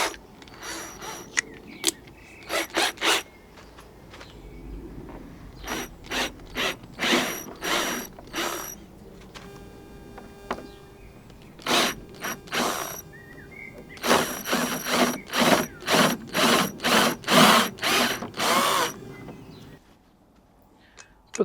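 A power drill whirs in a long series of short bursts, drilling metal while fitting a tailgate table shelf on a Jeep Wrangler JL, stopping and starting repeatedly, close by with mechanical grinding between runs.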